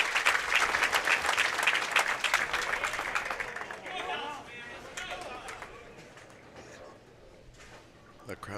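A bowling crowd at a PBA stepladder final applauds and cheers loudly, the clapping fading gradually while a commentator talks over it.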